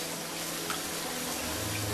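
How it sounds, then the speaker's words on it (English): Hot oil poured and sizzling over an aloo bread pakora frying in a pan, a steady, close hiss of bubbling oil running throughout with a faint splash partway. "Pour the hot oil like this"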